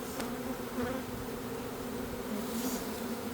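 Honey bees swarm around an opened hive being split, a dense, steady close-up buzzing drone that fills the air without pause, with individual bees whining past.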